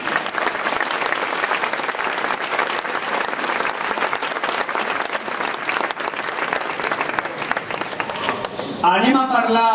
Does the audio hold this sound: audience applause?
yes